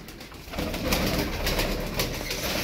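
Pigeons in a loft coo softly over a dense, steady background of rustling and wingbeats, with several birds murmuring at once close to the listener.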